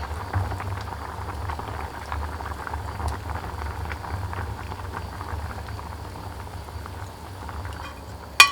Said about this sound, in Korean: 된장 넣고 이렇게 끓으면